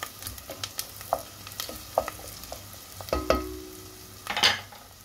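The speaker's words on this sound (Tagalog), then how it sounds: "Halo-haluin natin." Bulgur with carrots and zucchini stirred in a pan, a utensil scraping and clinking in scattered strokes over a soft, steady sizzle, with a brief louder scrape near the end.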